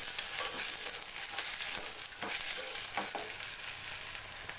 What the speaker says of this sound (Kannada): ಒಗ್ಗರಣೆಲಿ ಇದನ್ನು ಕೂಡ ಚೆನ್ನಾಗಿ ಒಂದು ನಿಮಿಷ ಫ್ರೈ ಮಾಡ್ಕೋತೀನಿ